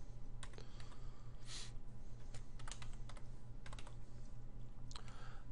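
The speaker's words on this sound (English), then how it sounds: "I'll just name it Chad's table" Irregular bursts of keystrokes on a computer keyboard as a short table name is typed in Microsoft Access 2010, close and fairly quiet clicks over a steady low hum.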